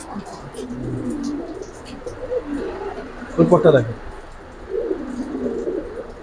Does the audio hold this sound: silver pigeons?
yes